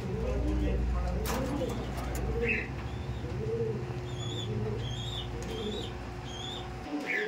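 A pair of Giribaj pigeons in a racing pigeon loft coo softly in low repeated calls, with chirps from other birds and a voice talking over them throughout.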